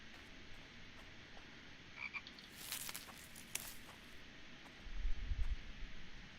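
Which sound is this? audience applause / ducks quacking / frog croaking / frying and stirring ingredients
frog croaking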